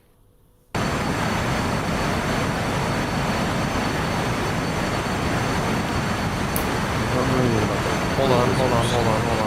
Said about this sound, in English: I was in a KC-130 backblast.